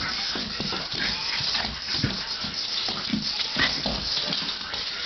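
A dog snuffles, whimpers and makes short scuffling noises close by, an active, excited sound with no clear barking.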